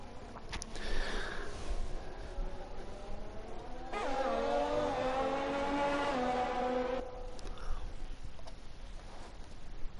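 An AlphaTauri Formula 1 car on a hot lap in a racing video game, its engine a steady high-pitched whine that swells loudly and rises in pitch for about three seconds mid-clip, with fainter engine noise before and after.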